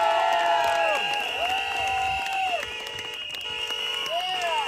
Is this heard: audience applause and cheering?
yes